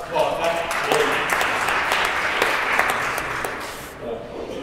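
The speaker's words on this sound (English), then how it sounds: "Give yourself a round of applause." An audience at a Democratic gubernatorial candidate forum in Brookline, Massachusetts, claps and cheers in a dense, roomy burst that tapers off after about four seconds, with some voices mixed in.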